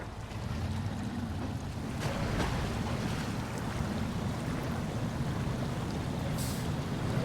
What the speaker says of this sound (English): Let's take it a little slow in this river here.